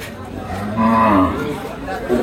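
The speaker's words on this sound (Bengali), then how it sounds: "নেপালি গিরের ক্রস গাভী বাছুর।" A Nepali Gir cross cow at a cattle market moos once, a drawn-out low call rising in the middle, with faint crowd chatter in the background.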